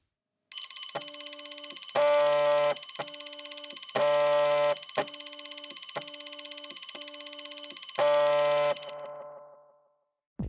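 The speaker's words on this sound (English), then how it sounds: "my doorway alarm went off pretty much without a hassle" A homemade Joy-Con doorway alarm goes off with a loud, steady high-pitched electronic tone overlaid with repeating pulsed beeps in a regular pattern, holding for about eight seconds before fading out.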